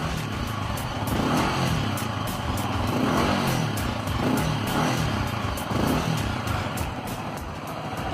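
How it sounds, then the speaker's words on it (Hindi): A Yamaha R15 V3.0 motorcycle engine revs steadily and loudly up close, its throttle rising and falling in repeated surges with a rough, buzzing tone. "मैं अभी इस बाइक को रेव करूंगा"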